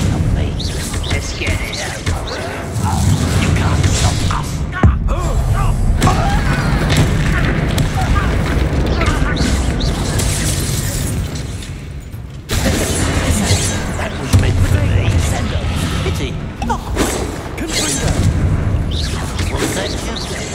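A Bombarda blast spell cast in the Hogwarts Legacy video game sets off heavy booming explosions within a dense, loud wash of game sound, with voices talking throughout.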